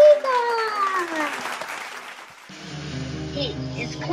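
A crowd breaks into applause mixed with cheering, followed by a bright musical sting that carries the rest of the moment.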